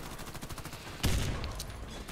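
Gunfire in the video game Warface: a quick rattle of shots, then a heavier burst of fire about halfway through that fades over the next second.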